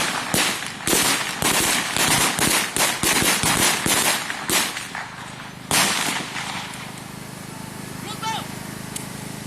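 Police gunfire at six shooting targets during a ceremony in Agrabinta, Cianjur, West Java: a rapid, loud string of cracking shots for about six seconds, then quieter, sparser reports over background crowd noise.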